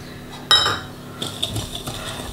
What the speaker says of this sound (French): On mélange les jaunes et le sucre pour éviter qu'ils ne brûlent.